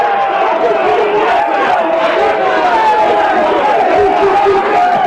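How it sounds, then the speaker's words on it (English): Stadium crowd at a 1988 Hull FC versus Wigan rugby league championship match, a continuous loud roar of grunting and shouting voices from the stand, sustained throughout with no pauses. "A lot of grunting coming from the crowd on this Threpley stand side of the field."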